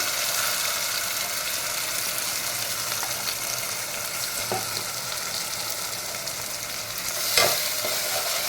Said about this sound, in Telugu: తరువాత వేగిందండి, మసాలా వేస్తున్నాను.